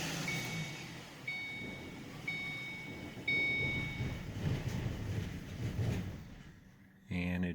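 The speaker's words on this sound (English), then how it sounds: "I'm going to go ahead and try to start the vehicle." A Ford Mustang with its fuel pump driver module disconnected cranks amid repeated dashboard warning chimes, rumbling briefly before dying out, followed by a final short mechanical clunk.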